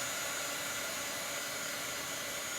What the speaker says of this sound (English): You're going to just use a plain old everyday hair dryer